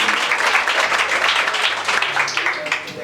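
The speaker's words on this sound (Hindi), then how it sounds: "तो एक बार जोरदार तालियां।" An audience at a school annual function breaks into dense, sustained clapping filling the room, with faint voices mixed beneath the applause.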